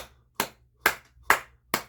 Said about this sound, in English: now they're clapping along